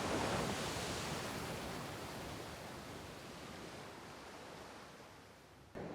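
Sea waves wash onto the beach at Lal Kakra near Purushottampur on a cloudy morning, a broad continuous surf roar mixed with wind, slowly easing in loudness.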